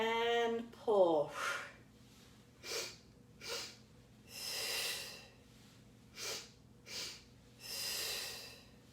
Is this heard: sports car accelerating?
no